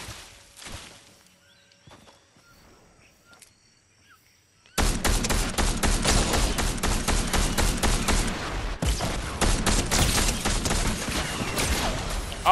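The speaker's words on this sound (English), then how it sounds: "The other one's sniping at me." Gunfire from a Fortnite match breaks in suddenly after a quiet stretch, a loud, sustained volley of rapid shots and impacts that continues to the end with no talk over it.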